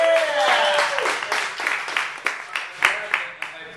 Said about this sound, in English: Ladies and gentlemen, round of applause, Farrell.